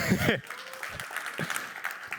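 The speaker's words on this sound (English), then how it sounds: "is that going to be an applause line? And I'm glad that it was" Conference audience at a blockchain developer event applauding with scattered claps, moderately close, fading in after a burst of speech and continuing under the presenter's talking.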